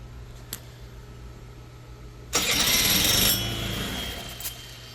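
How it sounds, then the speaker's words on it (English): A 2001 Honda Elite CH80 scooter engine bursts to life abruptly, roaring loudly for about a second, then settles into a steadier, slowly fading running noise over a low background hum. "The engine sounded good for the short amount of time it did run"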